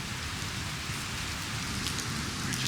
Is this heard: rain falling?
yes